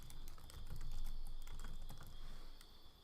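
Quick, light keystrokes tap on a computer keyboard in a steady run, faint and close, with a high steady electronic whine in the background.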